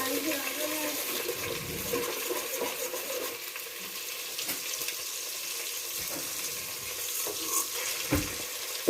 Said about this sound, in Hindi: अब हम ज़ीरा थोड़ा सा भूनेंगे।